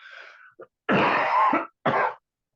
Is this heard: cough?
yes